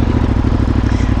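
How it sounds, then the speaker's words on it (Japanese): A motorcycle engine still running cold on a Hokkaido touring trip, heard up close as a loud, steady, rapid mechanical pulse with a rough low rumble and clatter, no talk over it. "エンジンが冷えてるからクラッチがまだあんまり、おお、言うことを聞かない"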